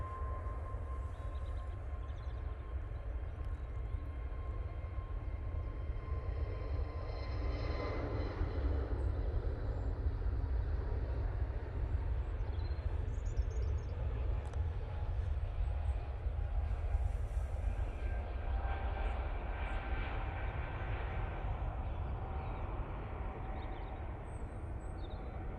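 Jet departing Manchester Airport for Amsterdam in low visibility, a faint, distant low rumble swelling gently and fading, with a thin engine whine over it.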